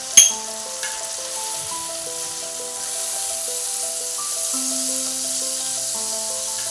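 A large katla fish piece fries in oil with chili and turmeric powder: a sharp initial splash of hot oil, then a steady, close, continuous sizzle with faint background tones and no one speaking.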